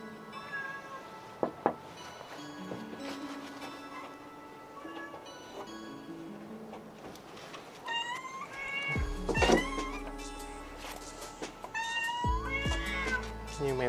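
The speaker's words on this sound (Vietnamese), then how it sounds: "Như mèo kêu quá ha." A cat meows repeatedly in a quiet room, with several drawn-out, rising cries spaced across the stretch, some close and loud, along with small ticking and shuffling noises.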